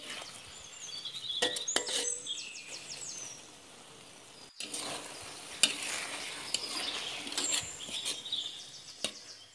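Cilok with chopped spring onion cooking in a pan, a soft steady sizzle with occasional stirring scrapes and clicks, heard alone at moderate level.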